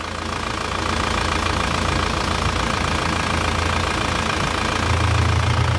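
A car engine idles steadily and smoothly close by, a continuous low hum and rumble that holds even throughout with no voices.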